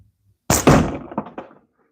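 A slingshot shot strikes its target with a sharp, loud thunk, followed by a few quick rattling knocks as the hit settles, then silence.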